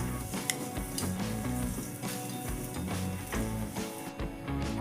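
Dry dates, black and regular raisins and cashews roasting in a pan at home, giving a continuous sizzle with stirring scrapes and occasional light clinks of utensil on metal, close and steady throughout.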